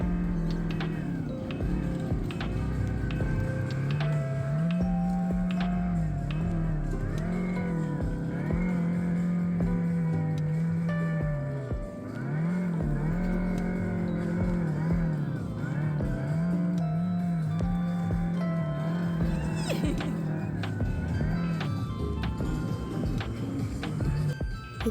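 Electric Mario Kart-style go-karts run around a Hanoi amusement park, giving a steady, continuous motor whine that rises and falls in pitch as they speed up and slow down, loud and close throughout with no talking.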